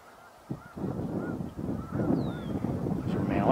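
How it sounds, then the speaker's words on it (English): Swans and mallard ducks call from water in the distance, a continuous chorus of honking and squawking with a few rising calls over a steady wash of outdoor noise. "Those are mallards. Looks like those are swans back there."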